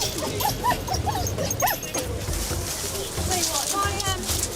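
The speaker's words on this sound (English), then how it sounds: "He's now whining at me." A police spaniel sniffer dog on a drug sweep in London whines and whimpers in repeated short, rising cries close by. Rumbling background noise runs underneath, and voices are present.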